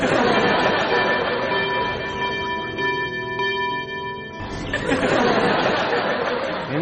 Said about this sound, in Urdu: گھنٹیاں بجاؤ، سب آئیں۔